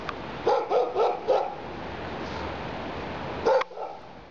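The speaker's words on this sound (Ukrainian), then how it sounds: "дворі я побачив таку собаку." A dog in a residential courtyard barks four times in quick succession, pauses, then gives one more bark, heard at moderate distance over background hiss.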